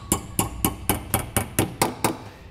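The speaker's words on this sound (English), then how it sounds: "Hammer the other ends of the handle nut up so the sharp edges aren't hanging down." Nine sharp metallic hammer strikes on handle nuts under the trunk pan of a 2009 Honda during a trailer hitch installation, in a steady rhythm, each ringing briefly, close and fairly loud with no talking.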